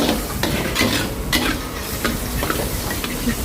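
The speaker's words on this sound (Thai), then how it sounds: "ตอนนี้เราจะผัดแค่แป๊บเดียวนะคะเพื่อนๆเราจะได้ไข่แบบนิ่มๆละมุนละมุนไม่แข็ง" Soft eggs stir-fried briefly with pickled shrimp and curry powder, sizzling loudly and continuously as a spatula scrapes and taps against the pan in an irregular rhythm.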